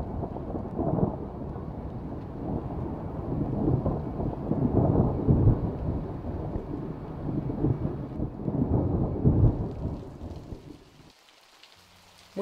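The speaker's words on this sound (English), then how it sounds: "Winter rains create a brief reprieve in Southern California's eternal summer." Steady winter rain pours down in Southern California, with low rumbles of thunder rolling through the downpour before it eases and fades near the end.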